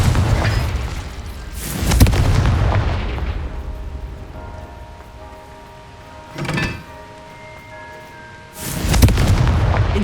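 Three loud explosive spell blasts cast in Hogwarts Legacy, spaced a few seconds apart, each a sharp booming burst with a rumbling tail; the middle blast is shorter and fainter, with a quiet hum of game ambience between them.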